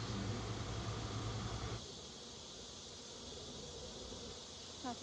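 Honey bees buzzing around swarm hive boxes during a hive transfer, a steady close drone of many insects with a lower rumble dropping away partway through.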